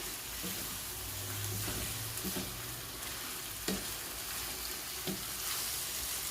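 Rice and fish fry together in a pan for paella, giving a steady sizzle throughout with occasional scraping stirs and light clinks.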